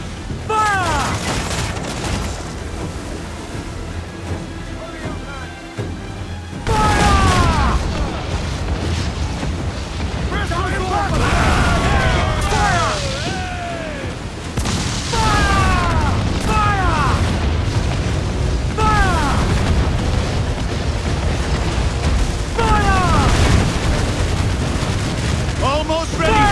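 Ship cannons fire broadsides in Assassin's Creed 4: Black Flag, with heavy booming volleys in rapid irregular bursts, loud and close, over shouting voices and battle noise.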